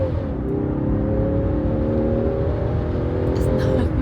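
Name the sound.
Land Rover Defender engine accelerating hard from standstill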